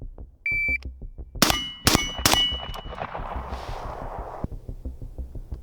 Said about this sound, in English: We're gonna go 3 rounds onto this T Targets reduced C-zone piece of steel.